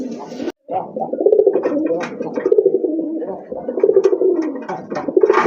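A male pigeon at a pigeon seller's loft coos repeatedly and close up, with throaty, rolling calls running almost continuously after a brief pause near the start.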